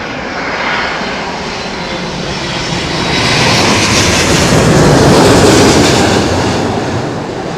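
An Airbus A320neo airliner at London Heathrow in strong winds, its engines roaring loud and steady as it passes close, swelling toward the middle and holding, with wind rush mixed in and no talk.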